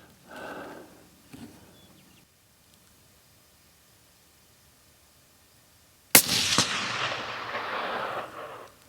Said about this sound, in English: I'm gonna shoot at the left dot on that same target